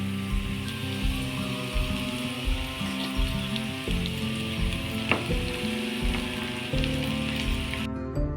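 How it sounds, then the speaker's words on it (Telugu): Cooked vermicelli (semiya) fries in a pan with a steady, close crackling sizzle, set against sustained melodic background tones throughout, with no voices. "ఇలా ఫ్రై చేసుకోవాలండి వీటిని అన్నిటిని"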